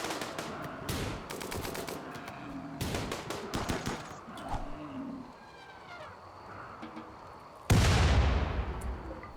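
Rapid bursts of video-game gunfire from traders shooting charging muffalos in Rimworld, several volleys of sharp cracks in the first few seconds, then scattered shots and a loud sudden blast near the end.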